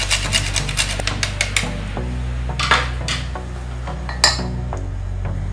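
A spoon stirs a chicken pâté mixture seasoned with hot paprika and nutmeg in a pan, giving a run of sharp metallic clinks and scrapes at an uneven rhythm, close and clear.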